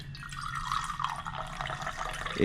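Treetop apple juice pours steadily from a nearly empty Yeti Rambler 64 oz bottle, giving a continuous close liquid splash and trickle that stays even across the clip.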